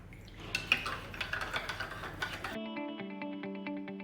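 A spoon stirs milk with sugar and Boost in a glass, with repeated small clinks and scrapes for about two and a half seconds, then the stirring stops and tonal music takes over.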